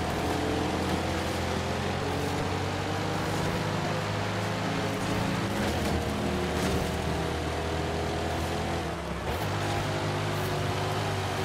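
A Corvette in the racing game Forza Horizon 5 drives steadily, its engine a continuous droning hum with layered harmonics, loud and unbroken throughout, with a brief dip in pitch near the end and no voices.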